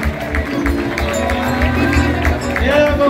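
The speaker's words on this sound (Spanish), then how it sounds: "Aplauso, aplauso, aplauso." A crowd at an open-air street performance in Bergondo, A Coruña, claps and cheers amid loud babble and voices, with music and chatter mixed in throughout.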